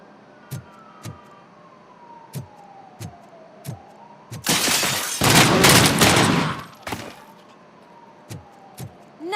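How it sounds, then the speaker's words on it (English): Gunfire rings out in the RoboCop Rogue City video game: several sharp single shots spaced out, then a dense loud burst of rapid fire over a wailing siren-like tone, followed by more isolated shots. "I think I'm doing all the shooting"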